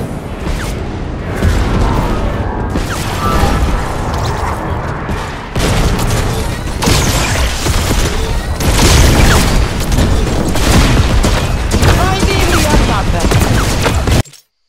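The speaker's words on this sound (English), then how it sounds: "I was shooting like crazy." Rapid bursts of gunfire from shooting in the video game Fortnite crackle almost nonstop, with booming hits and dense, loud volleys over a short gap, while a voice speaks faintly underneath.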